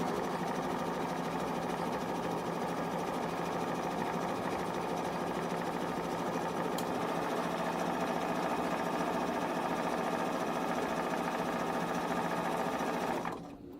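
A sewing machine zig-zag stitches along a fabric seam allowance in a fast, steady, close whirring hum with an even mechanical patter, running without a break until it stops just before the end.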